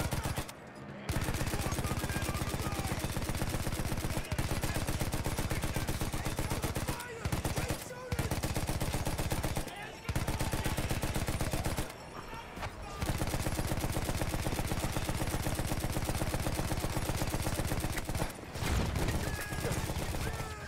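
Rapid gunfire rattles almost continuously in Battlefield 1, loud and dense automatic bursts broken by a few short pauses.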